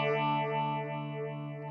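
Electric guitar sustaining a chord through a Warm Audio Mutation Phasor II phaser pedal, the classic Texas-style tone slowly sweeping up and down in a steady whooshing swirl, played alone and loud with no voices.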